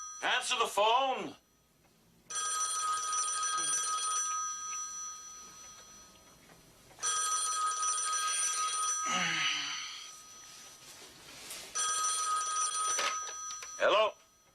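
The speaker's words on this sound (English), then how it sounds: "Terry, answer the phone." A telephone rings in repeated long electronic trill bursts, three or four rings separated by pauses, with brief voices at the start and end.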